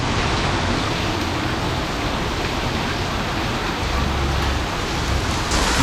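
Heavy monsoon rain pours down steadily, a dense, even hiss of close downpour that holds at full strength throughout with no voices over it.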